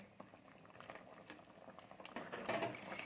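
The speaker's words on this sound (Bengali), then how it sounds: "আমার সবজিটা ফুটছে আমি একটু ঘেটে নেবো এটাকে" Prawn and green tomato curry bubbles in a pot, a close, busy gurgle and patter that swells louder toward the end, with light stirring.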